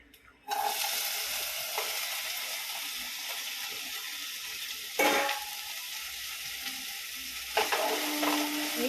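Okra stir-frying in a hot pan, a steady loud sizzle that starts abruptly and holds throughout, with a couple of brief scraping stirs and clinks partway through.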